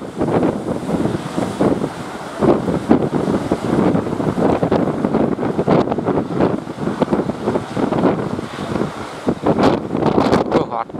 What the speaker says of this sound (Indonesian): aduh angin.